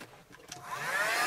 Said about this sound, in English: And a 12-volt vacuum cleaner.